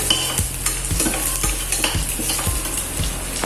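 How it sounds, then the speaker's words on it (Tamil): Two slit green chillies sautéed in a pan for tomato kuruma: a continuous crackling sizzle broken by regular, rhythmic scrapes and taps of a spoon against the pan, close and fairly loud. "2 பச்சை மிளகாவை நீங்கள் இது மாதிரி கீறி இதோடைய சேர்த்து வதக்கிக்கணும்."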